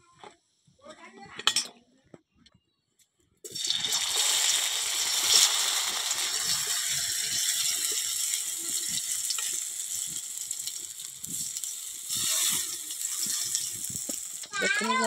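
Okra pakoda frying in hot oil in a kadai, a steady loud sizzle and crackle that starts abruptly after a few quiet seconds of handling noise, with a person speaking over it.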